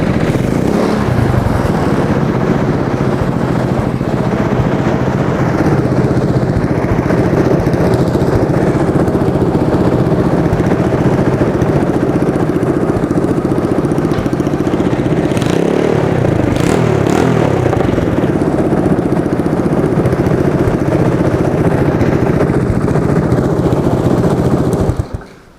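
Track sled engine runs steadily and loud throughout, a continuous idle with slight surges in revs and some mechanical clatter, no talking over it.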